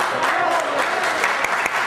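A crowd at a 2006 Colombian music concert applauds, a continuous dense wash of clapping with a few sharper individual claps standing out throughout.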